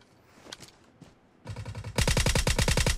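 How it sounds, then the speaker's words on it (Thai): A VSS rifle fires in a shooting video game, a few scattered clicks first, then a rapid run of loud, evenly spaced suppressed shots close up. "VSS มันดีอย่างเงี้ยแต่บางทีมันก็ยิงไม่โดน"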